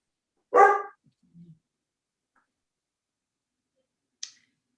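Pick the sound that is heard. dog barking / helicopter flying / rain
dog barking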